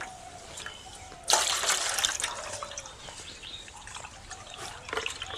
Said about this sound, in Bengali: এবার বন্ধুরা আবারও জল দিয়ে ভালো করে ধুয়ে নেব